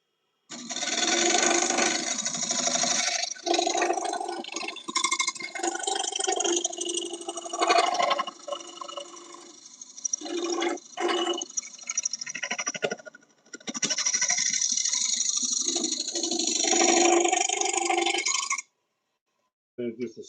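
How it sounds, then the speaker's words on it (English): Carbide tool scraping wood on a lathe, a sustained rough scraping hiss in long stretches with brief pauses, close and fairly loud. "Just scrape it and get in there."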